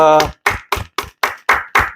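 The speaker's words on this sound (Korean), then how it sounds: "우리 하나님 축복하심에 감사의 박수 올려드립니다" Rhythmic unison clapping from a church congregation at the close of a Sunday worship service, about seven loud, evenly spaced claps with a voice briefly heard at the start.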